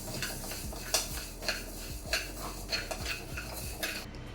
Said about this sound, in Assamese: ইয়াৰ মুগ দালিখিনি মই ভাজি বনাম